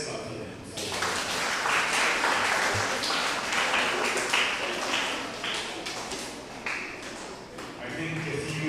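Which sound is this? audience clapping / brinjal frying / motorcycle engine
audience clapping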